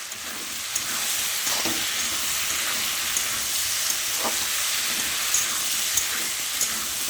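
Prawns and taro frying in a covered pan for a Bengali curry, a steady close hiss and sizzle throughout with faint clinks now and then.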